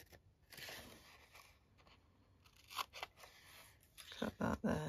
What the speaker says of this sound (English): So we're going to get a little pair of scissors here at the top.